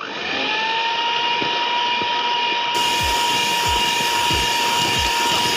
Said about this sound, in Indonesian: Kita mixer.